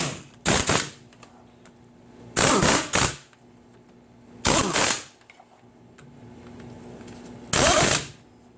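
An impact gun works on a Kubota BX tractor during steering pivot axle seal replacement, firing four loud, close rattling bursts, each lasting under a second, separated by quiet pauses.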